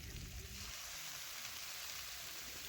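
Water poured into a hot pan holding mustard-cumin paste, turmeric, chili powder and salt for a snail curry, giving a loud, steady, broadband hiss and sizzle that continues without a break, with no talking.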